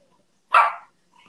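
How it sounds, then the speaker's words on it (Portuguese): One dog gives a single sharp, close bark indoors, brief and loud against near silence, with faint room noise afterward. "os cachorros aqui fazendo bagunça"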